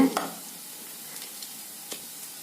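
Onion and green chilli sautéing in a pan for banana bonda, a soft, steady sizzle with a couple of faint stirring scrapes, quiet and close, no voices.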